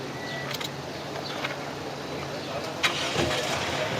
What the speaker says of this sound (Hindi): गाड़ी स्टार्ट करके भी दिखाता हूँ